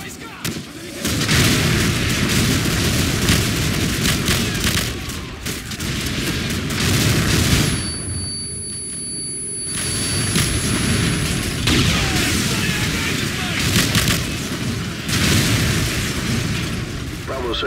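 Continuous heavy artillery explosions in Call of Duty 4 Modern Warfare, rolling booms and blasts layered over one another almost without pause, with a short lull in the middle.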